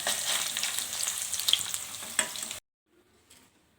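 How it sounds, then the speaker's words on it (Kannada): Paneer pieces fry in oil in a kadai while being stirred, a loud steady close sizzle with spatula scrapes that cuts off abruptly, leaving near silence with a faint clatter. "ಹಾಗೆ ಸ್ವಲ್ಪ ಒಂದೊಂದಾಗಿ ತಿರುಗಿಸ್ಬೇಕು."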